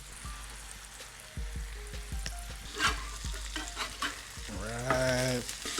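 Smash burgers made from ground brisket trimmings sizzle and fry on a hot griddle, with steady crackling and repeated scraping and pressing of a spatula, close and busy throughout.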